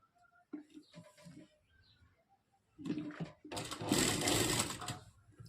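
A domestic sewing machine stitching white thread, heard in short bursts that build to a loud, steady whirring run near the end, with speech and faint background sounds earlier.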